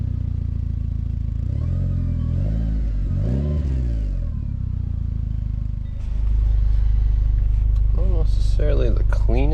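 A car engine transplanted from a Mitsubishi Evo revs loudly, its pitch rising and falling in a few sweeps before settling into a heavy, steady idle, with a voice talking over it.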